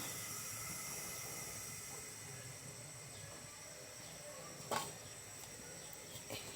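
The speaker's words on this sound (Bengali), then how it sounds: "চুলাটা অন করে দিচ্ছি" A kitchen stove burner, lit to boil cauliflower greens, gives off a steady, even hiss throughout, with one brief sharp knock partway through and a faint tap near the end.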